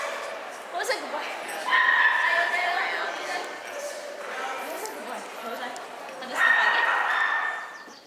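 A pet dog, Loki, whimpers and yips in high, thin bursts close by, rising in two stronger spells amid background chatter and some talk.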